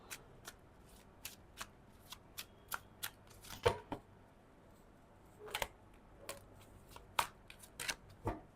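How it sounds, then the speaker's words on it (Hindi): Tarot cards shuffled and drawn, a string of crisp close card flicks and riffles at an uneven rhythm, quiet with no voices. "मैं ये फिनेंस के लिए एक कार्ड और लेना चाहती हूँ"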